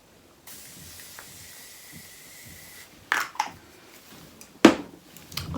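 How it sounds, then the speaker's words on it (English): A quiet hiss fades out, then several short, sharp makeup setting spray bursts follow, close and loud against near silence. "And I'll just go back in with some setting spray."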